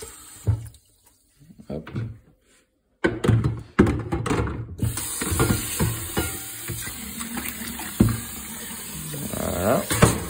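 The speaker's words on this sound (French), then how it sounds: "Bien la rincer à l'eau claire." Water runs from a kitchen tap to rinse a container used for kefir, a steady close splashing stream with a brief voice nearby.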